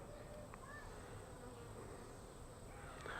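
Honeybees, likely robbers, fly erratically around a hive entrance, a faint steady buzzing from many insects with brief closer passes.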